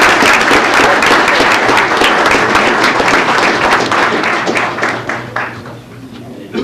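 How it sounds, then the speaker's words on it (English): A big round of applause from the audience at a city board of mayor and aldermen meeting, loud, full clapping that stays steady before fading slightly near the end. "we're all going to give you a big round of applause"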